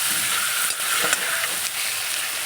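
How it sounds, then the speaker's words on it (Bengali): Spice paste with salt being sautéed for a katla fish curry, a continuous loud sizzle in hot oil with a few soft scraping stirs, no voices. "নুনটা দিয়ে ভালো করে কষানো হবে"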